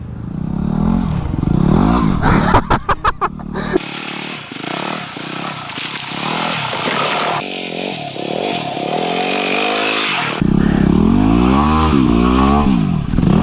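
Yamaha dirt bike engine revving hard under throttle, the pitch climbing and falling in repeated surges, loud and close, with clattering bursts and shouts from riders over the engine.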